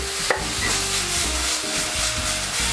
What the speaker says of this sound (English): we're going to add our diced tomatoes